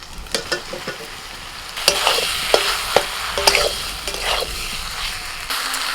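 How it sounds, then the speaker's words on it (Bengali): Potatoes stir-fried with spices in goat fat, sizzling steadily in the pan with repeated scraping and stirring strokes, close and fairly loud, with no talk. "চর্বির সাথে সব মশলাটা কষানো হয়ে গেছে এবার ভাজা আলু দিচ্ছি"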